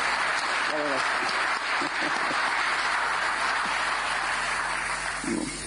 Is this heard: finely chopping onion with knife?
no